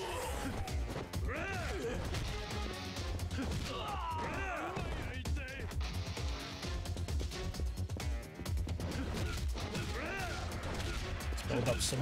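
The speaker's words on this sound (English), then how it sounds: "But I love smashing some heads up against the wall." Fight action from the Yakuza Kiwami video game, with repeated heavy smashing impacts and sharp crashes as heads are slammed into a wall, mixed with in-game voices and grunts throughout.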